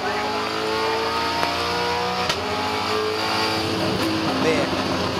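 V8 Supercar at the 2012 Sydney 500 street race rolling off the throttle on the run toward a corner, engine note fading from a loud roar to a lighter burble, with a commentator talking over it.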